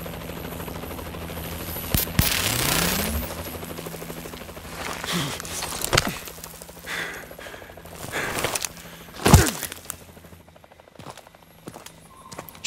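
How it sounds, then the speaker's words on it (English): Helicopter rotor in the Call of Duty: Advanced Warfare game, a steady low drone under a busy battle mix with sharp bursts of gunfire and impacts scattered through, loudest near the middle. "Chopper's moving off."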